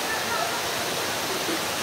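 Heavy rain pours over a flooded canal and street, a dense, steady roaring wash of water that fills the whole short stretch without a break.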